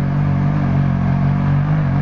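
A small motor engine runs steadily at close range, a loud, even mechanical drone with a rapid throbbing pulse and no voices.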